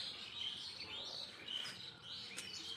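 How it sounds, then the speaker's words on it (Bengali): Birds chirping outdoors in a quick, scattered series of high tweets and calls, fairly close, with no talk over them. "ওই দিকে পাখিগুলো কিচির মিচির করছে।"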